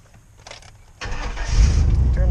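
A car engine cranks and catches, shifting from soft preceding noises to a loud, rough rumble that settles into a steady close idle.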